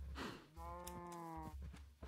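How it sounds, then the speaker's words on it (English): A single long, low cow moo from Minecraft sounds over a steady humming background, clear and close, lasting about a second. "Well, we got a lot of cows."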